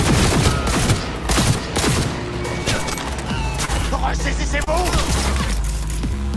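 Rifle fire in Cyberpunk 2077, close repeated shots in fast bursts with sharp cracks and shattering impacts, continuing over about six seconds beneath game sounds, with someone talking intermittently.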